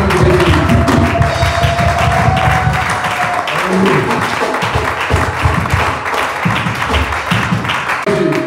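Congregation in a church applauding, dense sustained clapping that fills the space and continues steadily without a break, with some music or voices blended underneath.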